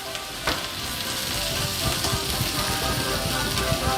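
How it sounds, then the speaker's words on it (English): Cornstarch and kirsch are whisked into melted cheese fondue with white wine in a pot. A thick, even bubbling and sizzling texture runs throughout, with light rapid whisk strokes close by. "you put in our cornstarch with the kirsch, and you really want to whisk it in there"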